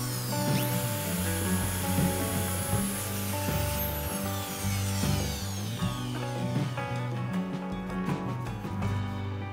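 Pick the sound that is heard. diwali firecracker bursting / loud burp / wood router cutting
wood router cutting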